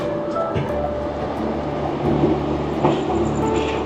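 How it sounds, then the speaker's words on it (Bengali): A Dhauli Express train (Shalimar–Puri service) moving through Puri railway station: a steady, close, broad rumble of rolling wheels and carriages with a few brief louder swells, and no voices. "ওই যে ধৌলি এক্সপ্রেস পুরী শালিমার, মানে শালিমার পুরী, শালিমার থেকে যেটা ছেড়েছে আজকে সকালে, সেটাই আজকে 6টার সময় ঢুকেছে"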